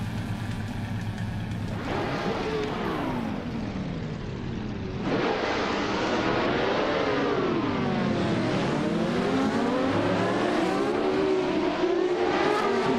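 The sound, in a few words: AI race cars racing at Interlagos track, from a video game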